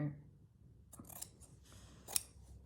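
Scissors cutting fabric for a quilted tote, a few quiet, close crisp snips spaced apart against a near-silent background.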